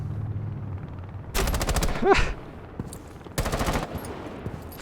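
Tachanka firing his weapon in Rainbow Six Siege: two loud rapid bursts of automatic fire, with a short whooshing sweep between them over a low ambient game background.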